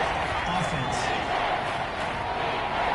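Dense, roaring stadium crowd noise in a PS4 American football video game, a continuous wash of many voices with faint shouts rising within it.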